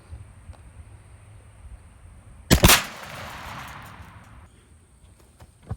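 A single sharp 28 gauge shotgun report from a Rio 1 ounce 7.5 shot shell fired outdoors at a patterning target, with a short echoing tail over quiet background hiss.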